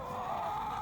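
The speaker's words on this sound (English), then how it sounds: "So there's the hen, and there's the cockerel." Marans and Welsummer hen and cockerel in a garden flock give a brief, steady clucking call, close and alone without voices.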